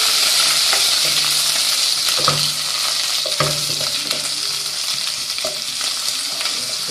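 Garlic and ginger paste frying in oil for a cabbage dish, with a loud, constant close sizzle and a few sharp scraping strokes of stirring scattered through it.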